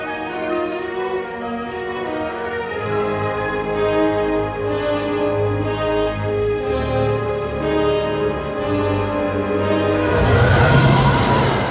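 Orchestral Star Wars film score excerpt quoting a medieval melody, with sustained brass and string chords swelling into a louder, brighter passage near the end, played alone without talk.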